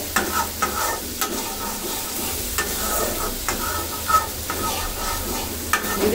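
Spice paste for spicy loitta fish bhuna stir-frying in oil, a constant close sizzle broken by periodic spatula scrapes and knocks against the pan.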